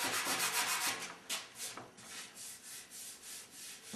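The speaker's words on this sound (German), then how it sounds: "das ist jetzt ein 240er Schleifpapier" Up close, 240-grit paper scrubs over body filler on a car panel by hand. Rhythmic rasping strokes come first, then the pace slows into softer, uneven rubs.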